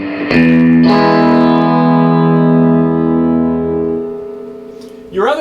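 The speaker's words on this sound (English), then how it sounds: "And it has a really luscious reverb." A sustained guitar chord rings out through a 1965 Fender amp, washed in a shimmering spring reverb that trails off slowly before a short squeak at the end.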